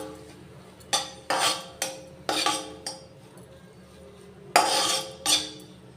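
A spoon stirs and mixes food in a pan with coriander just added, making a series of distinct metallic clinks and scrapes, about eight, close and fairly clear against a quiet background.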